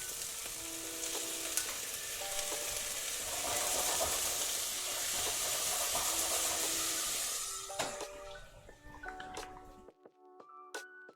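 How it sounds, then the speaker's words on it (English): Prawns sizzle and fry in a pan with thinly sliced onions over reduced heat, a steady crackling hiss that softens toward the end with a few scrapes and clinks. "this is onions with very thin sliced, and then we just added the shrimps or the prawns"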